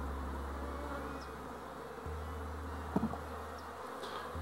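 Honey bees fly around the hive entrance, returning with light gray pollen, giving a faint, steady buzzing hum outdoors with low background noise.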